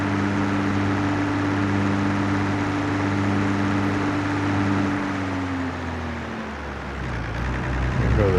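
Fiat tractor engine in Farming Simulator 22 running steadily with a deep, droning hum and low tonal whine, holding a constant note before the pitch drops and shifts near the end, heard alone.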